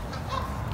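Geese honking at a park in the United States, a brief honk over steady outdoor background noise with no talking.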